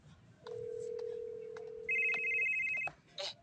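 A mobile phone left behind rings indoors with a steady electronic tone that switches to a higher pitch, fairly faint and brief, with no one answering.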